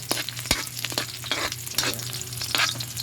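Onion sautéing with garlic and tomato in a pan, a close sizzle and fry broken by repeated sharp scrapes and clinks of a spatula stirring, moderately loud and alone.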